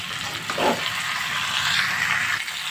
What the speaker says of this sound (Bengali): এখন আমি এখানে ভেজে রাখা আলুগুলো দিয়ে দেব। দিয়ে কিছুক্ষণ নেড়েছে